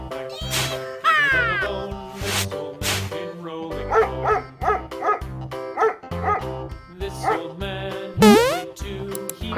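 Toy-style dog sounds mixed into a children's animal colour-learning song, with bow-wow yips and barks repeating over a steady musical backing, loud and close, alongside meow-like cat calls.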